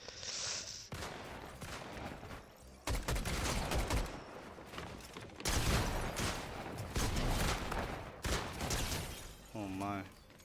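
Several separate bursts of gunfire in the Fortnite video game crack out loudly in sequence, with short gaps between volleys, while people talk over the action.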